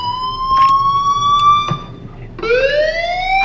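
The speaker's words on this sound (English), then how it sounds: "do you hear that fire alarm?" Fire alarm ringing inside a school in the video game Life is Strange, a loud electronic wailing tone that holds, breaks off briefly and then rises again, with faint clanks beneath.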